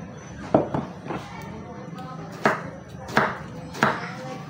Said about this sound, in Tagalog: ay hiwain na po natin yung ating patola